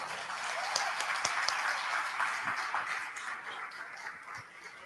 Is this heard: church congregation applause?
yes